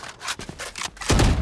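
Weapon reload in Valorant, a quick series of sharp mechanical clicks and metallic slides in an uneven rhythm, ending in a louder, fuller clack as the magazine seats, close and with no talking.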